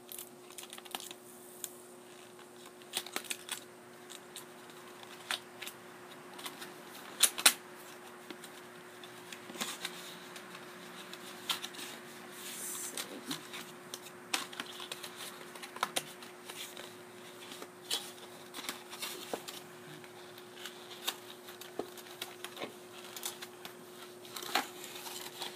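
A box holding a Nintendo 3DS carrying case is opened, giving quiet scattered clicks, taps and cardboard rustles at close range over a faint steady hum, with no talk.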